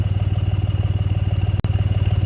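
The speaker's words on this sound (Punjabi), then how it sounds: "ਝੋਨਾ ਵਢਾਉਣ ਨੂੰ ਉਹ ਆ ਗਈ ਮਸ਼ੀਨ" A combine harvester arrives to cut a paddy field, its engine chugging in a fast, even rhythm, loud and close, with a brief dropout partway through and no talk.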